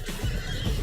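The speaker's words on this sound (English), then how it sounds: "Horses, they're not native." A horse gives a short, loud, close neigh that fills the brief moment, with a faint hint of hooves beneath it.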